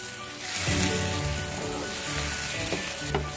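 Lotus root paneer gravy sizzles steadily in a pan while being stirred, a dense, even frying hiss with a few soft scrapes and a small clack near the end, no talking over it.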